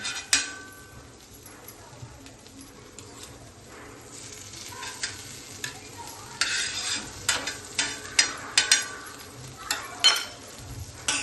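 Beetroot pav bhaji stir-fried in plenty of butter, a soft continuous sizzle broken by a quickening series of sharp spatula knocks and scrapes against the pan, with no talk.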